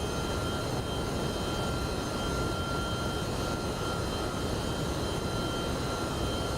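A steady, dense roar from the three jet engines of a UPS MD-11 freighter climbing out of Louisville in the X-Plane flight simulator. It is continuous broadband rumble with a faint whine and no talk.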